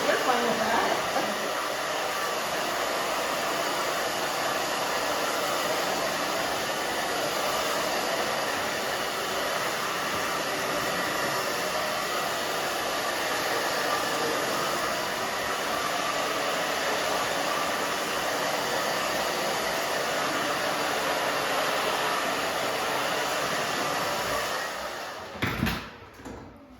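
A hair dryer blow-drying a short pixie cut, a steady, fairly quiet whooshing hum that runs without pause for about twenty-five seconds before switching off, followed by a faint voice.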